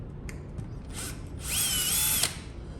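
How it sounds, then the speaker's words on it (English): A power drill runs slowly, removing screws from the rear door of a Lexus GS, making a faint whirring with a rising whine in a short burst and soft clicks of the screw and door parts in a quiet room. "When you use the drill for those things, do it really slowly."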